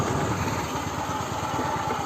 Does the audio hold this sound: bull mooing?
no